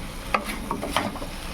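Boiled, broken-up potatoes frying in hot spices, giving a low sizzle under a few sharp scraping stirs of a utensil against the pan, close by.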